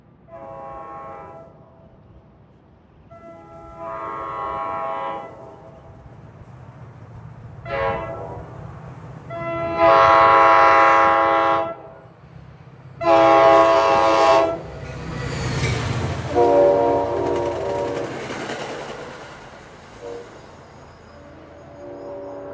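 Several loud blasts of NJ Transit diesel locomotive horns from GP40FH and Heritage Geep units on an autumn day, each multi-tone chord sounding for one to three seconds with gaps between, over a low rumble of passing trains and wheel noise.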